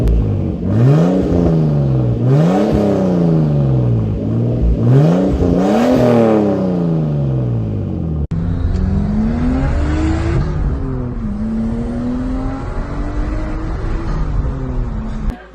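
A loud R34 Nissan Skyline engine with a 3.5 inch straight catless exhaust revs up and down repeatedly in sharp bursts, then settles into a sustained, raspy roar with an aggressive, unmuffled exhaust tone.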